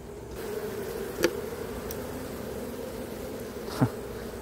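Honeybees hum around a hive during a hive inspection, a steady close buzzing drone with a couple of brief louder passes as bees fly near, and no voices.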